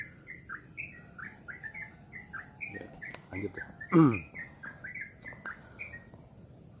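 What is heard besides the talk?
birds chirping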